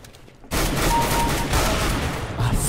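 Sustained, loud burst of rapid gunfire in Counter-Strike: Global Offensive, starting abruptly after a brief quiet moment and continuing densely to the end without a break.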